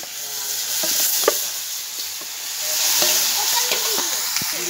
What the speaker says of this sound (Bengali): দেখেন এবার কড়াইতে তেল দিয়ে দিল, তেজপাতা তেল দিয়ে দিল।